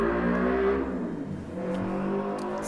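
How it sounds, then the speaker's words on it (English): A car engine hums steadily close by with strong low tones, dipping briefly before revving back up, loud and continuous with no voices over it. "Excuse the car noises"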